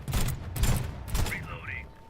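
Gunfire in the video game The Red Solstice crackles in several quick bursts of shots, with muffled thuds and a rising electronic whine in between, while a player talks over it.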